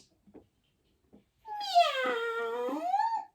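A single drawn-out cat meow rises and falls for nearly two seconds after a few faint soft taps, close and clear with no talking.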